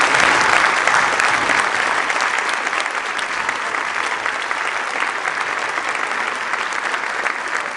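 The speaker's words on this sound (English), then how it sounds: "Let's give all the kids another big round of applause for their hard work." A middle school winter band concert audience gives the young musicians a big round of applause, loud sustained clapping from a packed room that tapers only slightly over several seconds.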